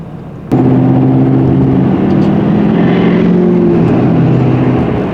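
A car roars past in a close flyby near a Shelby GT500 Mustang, a sudden loud onset swelling into a sustained engine drone that fades slowly away.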